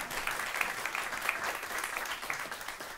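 Audience applause at a talk on climate and hunger, a soft, fairly distant patter of many hands clapping steadily with a few sharper claps standing out.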